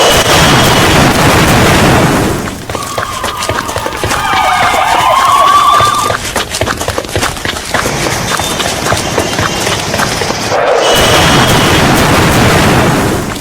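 Wailing sirens rise and fall over a loud, continuous roar of wind and noise at a Pakistani police training camp after an explosives-laden vehicle attack and grenade assault, with a sharp burst near the end.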